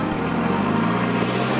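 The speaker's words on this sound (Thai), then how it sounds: "สัตว์ต่างๆในฟาร์มตื่นขึ้นมา เพราะเสียงที่เหมือนเครื่องยนต์ ดังออกมาจากป่า" A steady, loud engine-like drone hums continuously, a low mechanical rumble resembling a motorboat or propeller engine, with no voices.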